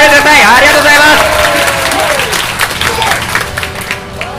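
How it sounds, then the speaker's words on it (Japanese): Loud audience applause fills the space at a Super Street Fighter IV Arcade Edition tournament semi-final while an excited commentator talks over it; the clapping fades somewhat toward the end. "皆さん、拍手をお願いします"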